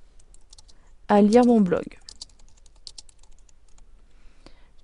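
Sparse, light keystrokes on a computer keyboard while a message is typed into a WordPress blog invitation form, a short spoken phrase before quieter scattered clicks.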